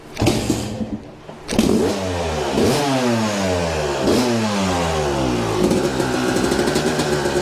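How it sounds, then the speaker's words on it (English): A 2000 Yamaha YZ250 two-stroke dirt bike is kick-started, sputters briefly, then catches and runs loud and close with a rising and falling rev and a crackling, buzzy exhaust. "so let's try to kick it on"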